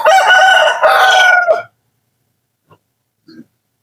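A rooster on a small farm with ducks and chickens crows loudly and close by in one long, strained call lasting over a second, followed by silence and a couple of faint, brief clucks.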